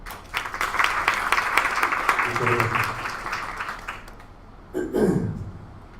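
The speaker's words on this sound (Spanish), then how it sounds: "Le damos un aplauso." An audience at a literary talk about a novelist applauds with a dense burst of clapping that gradually thins out, and then a voice begins speaking near the end.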